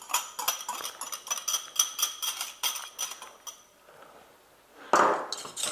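Two egg yolks are beaten with a wire whisk for hollandaise sauce, producing rapid, even metallic ticks against the bowl for a few seconds, then a pause and a louder scraping clatter.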